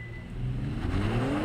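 A Kia Stinger launches under launch control with the accelerator floored, its engine note rising quickly into a loud, close roar that builds over the short stretch without any talk.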